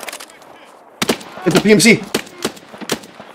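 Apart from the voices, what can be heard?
gunfire in the video game Escape from Tarkov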